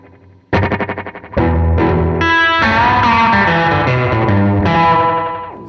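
A guitar runs through a Belle Epoch Deluxe tape echo pedal set to reverb at minimum delay: a few plucked notes, then loud sustained chords that swell and ring with a thick echoed wash, with no voices.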